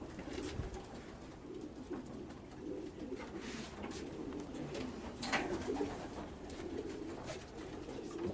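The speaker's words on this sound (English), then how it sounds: "A lot of birds." Racing pigeons coo in a crowded loft at a breeding station, soft low murmurs overlapping within a faint, steady background of rustling, with no speech.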